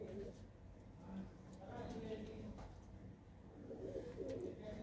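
Pigeons in nest boxes give low cooing calls at a faint level, with people talking nearby over a soft background hum.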